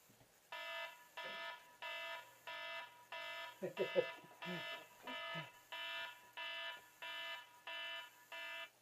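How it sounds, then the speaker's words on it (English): A phone timer alarm beeps in a steady repeating pattern, about one pulse per half second, tonal and moderately loud, while someone talks briefly over it partway through. "That's my timer on my phone."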